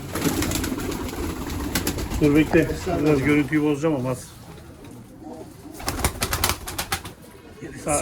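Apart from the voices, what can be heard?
pigeons flying and cooing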